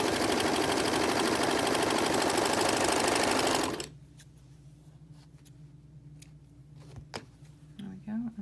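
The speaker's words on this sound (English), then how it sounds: "Line them up and serge them" A serger runs fast along the edges of two layers of mask fabric, a loud rapid stitching whir for several seconds that stops abruptly, leaving a quiet room with faint handling noises.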